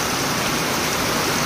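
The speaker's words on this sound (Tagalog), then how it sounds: "Grabing lakas ng ulan guys" Heavy rain pours down in a dense, unbroken hiss that holds at full loudness without pause.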